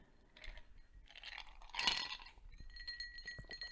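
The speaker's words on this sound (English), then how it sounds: "That's the sound of an empty glass, my friend." An empty drinking glass gives bright, ringing clinks and a small rattle, with one louder chime near the middle that trails off into lighter tinkles, close by in a quiet room with no speech.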